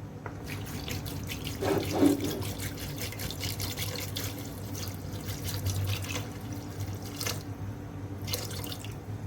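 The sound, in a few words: pouring water into cooking mince and capsicum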